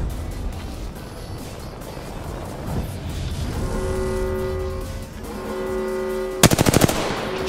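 Automatic gunfire in an Apex Legends match, starting as a continuous distant background of shots and ending in a loud, rapid, close burst of about six shots near the end.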